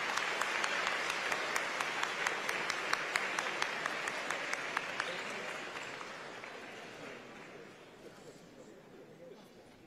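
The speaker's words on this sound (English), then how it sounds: "Ladies and gentlemen, please give a warm round of applause to the President of the Republic of China, Her Excellency Tsai Ing-wen." An audience at the AmCham Taiwan 2024 dinner applauds to welcome President Tsai Ing-wen, a sustained burst of many clapping hands that gradually fades over about ten seconds.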